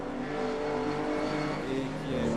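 Classic racing cars, including a Ferrari 250 GT Berlinetta, running wheel to wheel at the Le Mans Classic, a sustained loud engine roar with shifting revs, with a commentator talking over it.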